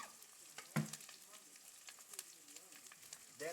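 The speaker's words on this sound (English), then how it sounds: "then I stir up" Onions fry in a pot while being stirred with a wooden cooking stick, a faint steady sizzle with occasional soft scraping knocks, heard close but quiet.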